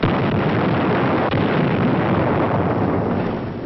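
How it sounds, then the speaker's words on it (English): Bangalore torpedoes and grenades blast apart enemy positions in 1944 World War II combat, heard as a dense, continuous roar of explosions on a muffled, band-limited wartime film soundtrack. "blowing them apart with bangalores and grenades"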